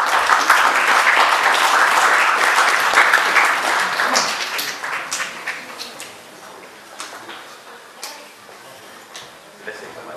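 An audience applauds at a Greek sports club's pie-cutting celebration, with dense clapping that thins and fades into scattered claps as voices begin to murmur.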